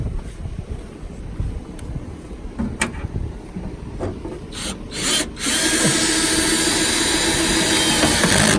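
Power drill driving a screw into a clamshell hurricane shutter anchor: a few short clicks and taps, then a loud, close, sustained motor whir that runs to the end.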